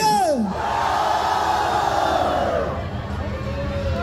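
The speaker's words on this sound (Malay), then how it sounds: "Kita dengar jeritan daripada lelaki dahulu." A crowd of men at a food festival roars together in one loud sustained shout that fades slightly toward the end, with a brief high call at the start.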